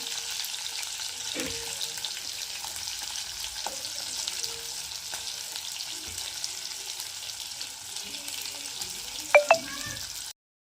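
Chopped onion crackling and sizzling in hot oil in a home kitchen pan, a steady dense hiss through the whole stretch with a few sharper utensil clinks near the end.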